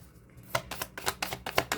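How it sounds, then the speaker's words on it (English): A deck of tarot cards is shuffled close by, producing a run of quick papery riffles and slaps in an uneven rhythm, with no one speaking. "I'm going to shuffle this real good."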